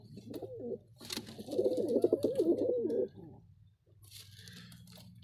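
Blue pigeons coo softly in a low, rolling murmur from nearby, one short call followed by a longer sustained stretch, then a quieter pause before faint cooing resumes.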